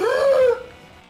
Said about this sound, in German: Aus Animal Crossing, das sind nämlich Hunde unterwegs